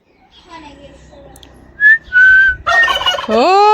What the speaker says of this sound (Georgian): ინდაური ლუყლუყი იყო ეგა.